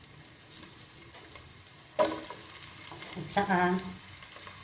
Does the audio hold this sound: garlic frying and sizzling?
yes